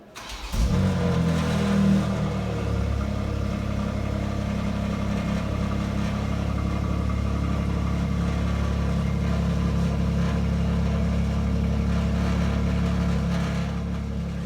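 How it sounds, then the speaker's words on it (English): A 2021 BMW X3M with bright chrome dual exhaust fires up and settles into a loud, deep, steady idle rumble held close by for over ten seconds, with a brief rev at the start. "the exhaust in this car sounds awesome."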